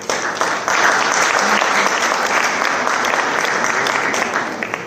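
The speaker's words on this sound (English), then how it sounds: "And one big round of applause," A big round of audience applause at a community Mahavir Jayanti celebration, loud dense clapping that swells quickly and holds steady for several seconds.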